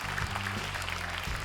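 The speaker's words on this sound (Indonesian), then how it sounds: "Tepuk tangan untuk CEO dari Jebret Media, Bang Valentino Simanjuntak." Audience applause at the grand final of a community sports league event in Indonesia, a steady, dense wash of clapping filling the room throughout without voices.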